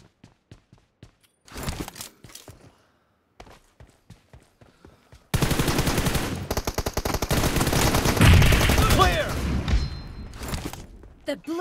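Gunshots ring out in a mobile team deathmatch shooter game: sharp single shots at first, separated by pauses, then a dense, loud stretch of rapid automatic fire with impacts.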